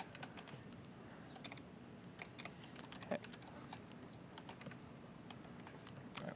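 Keystrokes on a computer keyboard as script code is typed for a cross-site scripting test in bee-box, a fairly steady run of quiet clicks with one sharper tap midway, no talking.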